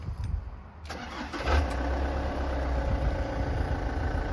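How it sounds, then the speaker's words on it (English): A Ford Transit Mk6 van's 2.4 diesel engine cranks briefly and catches, then settles into a steady, loud, close idle rumble. "So now we can start the engine up"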